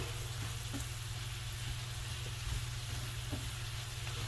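Food sizzles in a pan on medium-high heat: a dense, continuous crackling hiss with faint stirring clicks underneath, close and steady.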